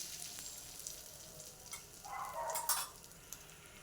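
Green chillies frying in hot oil with mustard seeds and cumin, a soft, fairly faint sizzle that swells briefly in the middle with a few crisp pops, no talking.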